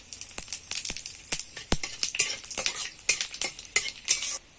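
Cardamom, cumin and whole garam masala crackling in hot oil for a katla fish kalia, bright sizzling with quick metallic stirring taps against the pan, close and continuous.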